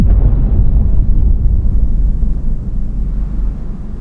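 A massive, deep nuclear bomb explosion rumble rolls on continuously, loud and booming with heavy low-end roar that barely fades over several seconds.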